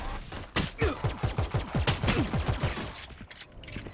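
Rapid gunfire in the Valorant video game, a quick burst of repeated sharp shots with descending zappy tones like a sci-fi blaster, steady and fairly loud for about three seconds before trailing off.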